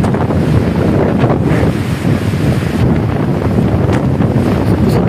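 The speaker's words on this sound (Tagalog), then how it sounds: "Hangin diri" Strong typhoon wind buffets the microphone in a continuous loud roar, gusting and rumbling without a break.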